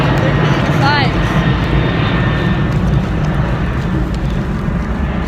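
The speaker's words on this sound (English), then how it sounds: "An airplane." An airplane flies overhead, a loud, steady broadband roar that fills the whole stretch, with people talking beneath it.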